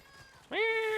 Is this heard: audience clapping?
no